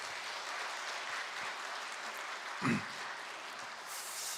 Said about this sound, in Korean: 우리 따뜻한 박수 보내겠습니다.